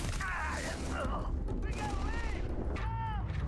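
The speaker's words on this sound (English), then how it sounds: "This gun's fun, but it fires very, very slowly." Gunfire from a slow-firing gun in the space video game Starfield, with a few spaced heavy shots and mechanical reload clicks over a dense, loud game soundscape.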